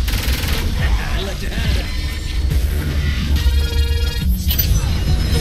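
Rapid bursts of Saints Row IV gunfire crackle over a dense mix of game effects and mechanical clatter, steady and loud throughout.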